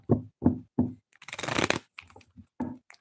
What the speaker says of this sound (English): Let's shuffle the cards well for you